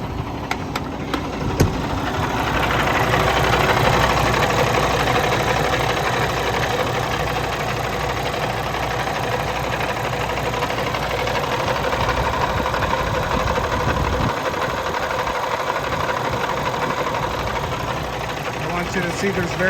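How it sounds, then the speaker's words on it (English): 2018 Peterbilt 579 truck with a Cummins X15 diesel and automatic transmission idling, a steady low rumble with a fine mechanical clatter running evenly throughout. "I'm going to idle the engine down a little bit"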